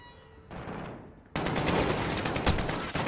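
Heavy automatic gunfire bursts in Call of Duty Modern Warfare, a loud continuous rattle of shots breaking in suddenly after a quieter stretch and holding steady to the end.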